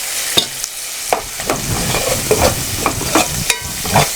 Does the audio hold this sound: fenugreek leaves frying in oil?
yes